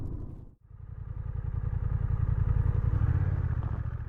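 A motorcycle with a DCT gearbox drones close by, dipping briefly as it downshifts, then pulling steadily with a rapid pulsing exhaust note that grows slightly as it rides on.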